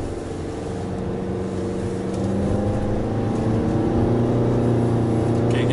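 A Nissan Serena facelift, a 2022 car, climbs a hill under hard throttle. Its engine gives a steady, close, droning hum that builds slightly in strength partway through, with no voices.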